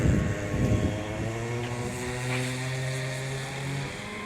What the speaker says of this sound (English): There's a guy on a gasoline-powered scooter over there.